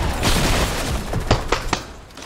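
Video game gunfire from a live solo tournament match, a few sharp shots cracking out in quick succession over a busy, noisy game background.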